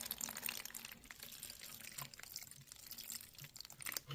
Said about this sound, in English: I collect rainwater, and I just kind of eyeball it, pour it down in there